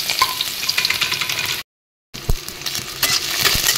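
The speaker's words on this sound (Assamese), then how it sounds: "অলৰেডি কেৰাহী বহাই দিছো তেলখিনিও গৰম হৈছে ইয়াতে এতিয়া মই পিয়াজখিনি দি দিছো" Onions sizzling and frying in hot oil in a kadai, a loud, steady crackle with brief stirring scrapes and a short break in the middle, no talking.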